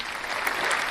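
A game-show audience claps in a brief burst of dense, steady applause filling the moment, with no voices on top.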